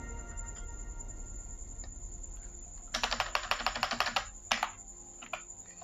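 Computer keyboard typing a MySQL insert command: a quick run of close, crisp key clicks that starts abruptly after a quiet hum, bursts for about a second and a half, then slows to a few scattered taps.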